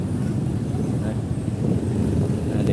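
Loud, continuous rumble of vehicles passing on a busy street near a school, a steady low-frequency roar with no clear gaps.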